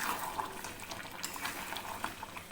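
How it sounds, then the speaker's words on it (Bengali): Water pours into a pan of Bengali chicken kosha, giving a steady, close splashing and sizzling with a constant watery rush throughout the short moment. "সেজন্য আমি একটু সামান্য জল অ্যাড করে দেব।"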